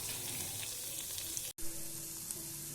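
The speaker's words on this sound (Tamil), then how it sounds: "கொஞ்சம் கடாயில் பட்டர் போட்டுட்டு அதில் சாப் பண்ணி வச்சுருக்க பூண்டு, குடமிளகாய், தக்காளி எல்லாம் ஒரு ஃப்ரை பண்ணிக்கலாம்" Garlic, capsicum and tomato fry in butter in a kadai with a steady close sizzle, broken by one very brief dropout and then resuming evenly.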